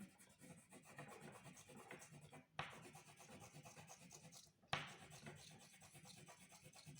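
Colored pencil scratches rhythmically across paper, filling in a tree in brown, a steady close rubbing texture broken by two brief pauses, faint and without speech.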